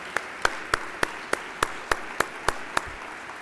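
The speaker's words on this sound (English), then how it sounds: "please join me in a round of applause for the parents, grandparents, families, and friends" Sharp, evenly spaced hand claps ring out at a school Veterans Day ceremony, about ten crisp single claps in a slow steady rhythm over a quiet room.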